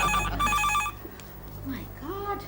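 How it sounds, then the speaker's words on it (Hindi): An electronic telephone ringtone trills with a steady repeating pattern for about a second, then stops, leaving a low hum and faint background voices. "फोन पे फोन, फोन पे फोन, फोन पे फोन।"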